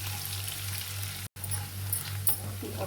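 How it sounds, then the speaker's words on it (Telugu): Onions and curry leaves fry in a pan for a village-style stuffed brinjal curry, giving a faint, steady sizzle with a low hum beneath and a brief cut midway. "ఎర్రగడ్డలో కరివేపాకు వేసాం కదా, ఇది కాస్త బ్రౌన్గా ఫ్రై అవనిద్దాం"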